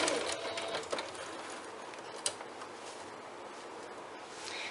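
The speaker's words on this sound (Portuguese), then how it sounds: "Eu vou fixar as alças e vou costurar o bolso cristal." A sewing machine stitches straps and a clear vinyl pocket onto a handbag, humming steadily at close range for a few seconds with a small click partway through.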